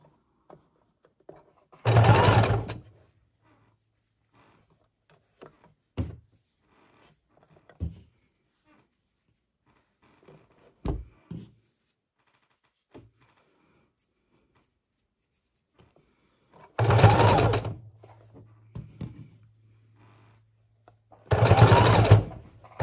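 A sewing machine stitches fabric strips for junk journal snippet rolls, running in three loud, close bursts of a couple of seconds each. Quiet handling clicks fill the pauses between runs.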